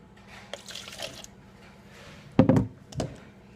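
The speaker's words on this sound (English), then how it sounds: "just pour a little bit of my SCOBY in" Kombucha poured into a small clean cup: a short burst of splashing liquid and drips, then a brief second splash, close and fairly loud against a quiet room.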